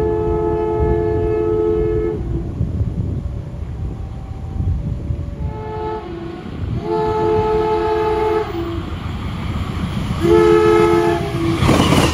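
An overtaking train passes close beside the Kutojaya Selatan extra holiday service, its horn sounding in several sustained blasts over a steady rumble and clatter of wheels on rail, loud throughout.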